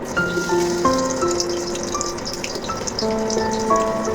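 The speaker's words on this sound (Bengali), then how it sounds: "তো অর্ধেক পরিমাণে পেঁয়াজ দিয়ে দিব। তেলটা আমার গরম হয়ে গেছে, এখন আমি দিয়ে দিব।" Chopped onions fry in hot oil in a home kitchen, with a loud, close, continuous sizzle and crackle and scattered bright pops from spitting oil.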